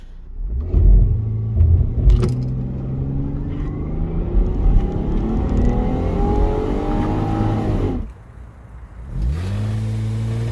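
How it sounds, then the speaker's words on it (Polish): A stock Lexus IS200 in manual mode revs loud and close, the engine climbing and holding high rpm before dropping off sharply. After a short lull it launches and pulls hard again for an acceleration run. "Spróbuję go wkręcić na obroty i wtedy wystartować."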